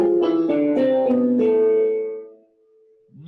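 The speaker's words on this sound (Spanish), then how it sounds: "existía en aquella época la escala armónica, menor armónica, que es la que suena así" A short melodic run of plucked or sung tones in the harmonic minor scale, notes stepping in quick succession before one held note decays, clear and close, with a voice starting at the end.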